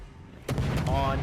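Guns on the Shimakaze destroyer fire in World of Warships, a sudden booming salvo that rolls on briefly after a quiet start, heard up close.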